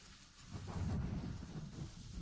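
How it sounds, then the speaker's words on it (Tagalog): Heavy rain pouring down in a steady, low hissing roar with a deep rumbling undertone, fairly faint and continuous. "Naku, ang lakas ng ulan."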